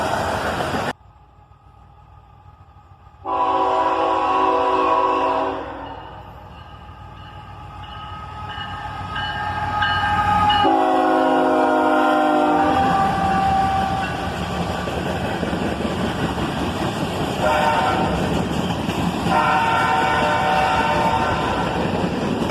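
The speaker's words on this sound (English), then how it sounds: "A single ET44AH leads this one." A freight train led by a single ET44AH locomotive passes close by, its horn sounding in long loud blasts over the rising rumble and rattle of the rolling cars.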